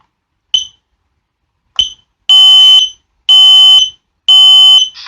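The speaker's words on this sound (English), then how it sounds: "Combination smoke alarm and carbon monoxide alarm." A Kidde hardwired combination smoke and carbon monoxide alarm gives two short high chirps, then three long, loud, piercing electronic beeps in a steady rhythm, close and alone.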